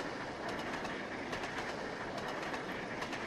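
Steam locomotive running on the Settle and Carlisle route in Trainz: A New Era, a steady, dense rolling rumble with faint rhythmic clatter throughout and no voices.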